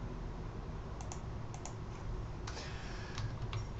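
Keys clatter on a computer keyboard as SPSS syntax is typed, a quick run of close, light taps with short pauses between bursts over a steady room hiss.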